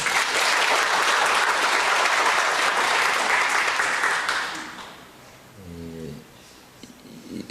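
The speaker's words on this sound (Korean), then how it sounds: "그냥 박수해 주시기 바랍니다" A church congregation claps for about four and a half seconds, dense and even, then dies away, leaving a quiet room where a voice begins speaking.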